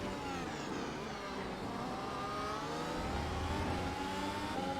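Formula 1 race car engine in the iRacing sim at the Austrian Grand Prix, revving hard and climbing through the gears in a sustained loud, steady drone with rising pitch sweeps, heard up close and alone.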